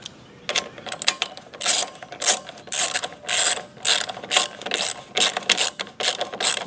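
A ratchet tightens a bolt on a Honda push mower that had sat unused for years. It clicks in quick, loud, repeated bursts, stroke after stroke, with short pauses between and no voices.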